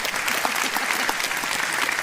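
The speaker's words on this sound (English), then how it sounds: "Round of applause for a potential candidate." A room full of people at a Reform UK election rally in Hull breaks into steady, dense applause, loud and sustained throughout with no pauses.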